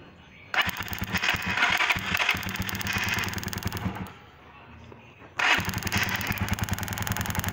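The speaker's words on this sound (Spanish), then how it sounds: "Vieron la cantidad de chispa ahora que bota y prende de una" An NKD motorcycle engine with a weak-spark ignition fires up abruptly and runs with a loud, rapid popping chatter, drops out into a brief quiet lull, then catches again and keeps running strongly.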